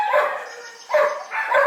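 Dogs at a boarding kennel barking nearby in three loud bursts, each a cluster of sharp barks and yips separated by short pauses.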